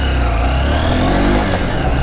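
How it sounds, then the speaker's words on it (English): Honda Unicorn BS6 motorcycle engine pulling away from a start, a smooth, steady mid-pitched drone heard up close and loud, rising gently in pitch. "So starting the vehicle one more time. So the engine sound is very refined"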